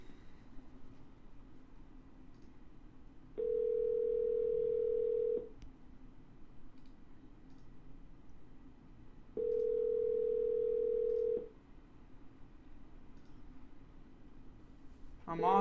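A telephone ringback tone from calling a seller sounds in two steady, clear bursts about two seconds each, separated by a pause over a low background hum.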